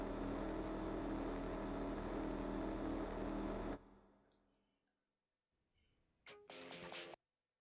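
Gran Turismo 4 racing game car engine running at low RPM, a loud steady drone for several seconds that cuts off abruptly, then silence and a brief burst of bright synthetic game tones.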